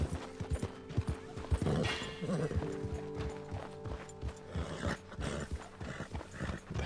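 A horse in the Red Dead Redemption II video game: a steady clip-clop of hooves with a short whinny mixed in, under game sound and occasional talk.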